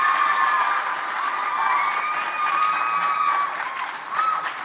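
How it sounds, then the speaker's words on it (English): Steady audience applause at a junior school quiz show, dense continuous clapping with faint cheers and a few children's shouts rising near the end. "A round of applause."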